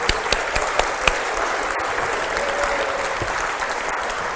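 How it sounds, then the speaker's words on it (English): Applause from the audience at a lunchtime lecture, a steady, dense round of clapping with a few sharper claps standing out near the start. "we want to give a big round of applause to Nicholas and Vanessa Courtney"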